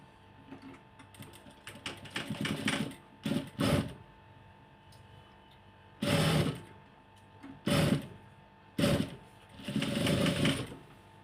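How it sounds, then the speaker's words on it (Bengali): A sewing machine stitches a kameez in short bursts of rapid needle chatter, several separate runs of stitching with brief pauses between them, close and fairly loud. "এখন এটাকে সেলাই করে আটকিয়ে দিব এই যে সেলাই করতেছি"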